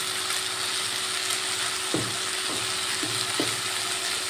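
Peas and spring onion stalks fry with spices in a pan, giving a continuous moderate sizzle with several short scraping stirs of a spatula, alone without talk.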